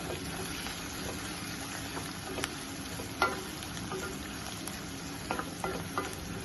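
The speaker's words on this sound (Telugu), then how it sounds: "ఆయిల్లో ఇవి కూడా మంచిగా వేగాలి" Cucumber pieces fry in hot oil for a curry, giving a steady close sizzle with scattered crackles and small pops, quite soft overall.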